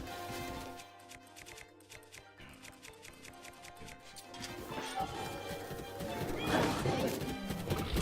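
Horse hooves clip-clop in a quick rhythm, followed by a loud crash and a horse's whinny amid combat in Zelda: Breath of the Wild, with a voice talking over parts of it.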